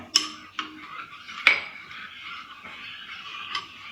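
A spoon scraping and clinking against a bowl while a homemade spinach and carrot juice hair pack is stirred, a few distinct clinks followed by softer scraping, close and alone.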